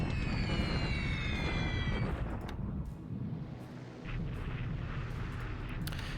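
Bombs burst and flak guns fire in the World War II strategy game War in the Pacific: Admiral's Edition, a quiet run of low rumbling booms and sharp cracks, with a high whine fading out early on.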